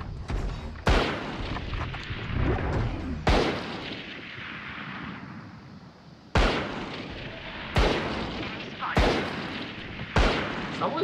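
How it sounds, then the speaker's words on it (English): Loud, sharp gunshots ring out in the Valorant shooter game, fired through a wall, about seven heavy booming reports spaced irregularly, each with a short decaying tail. "Someone's shooting through wall."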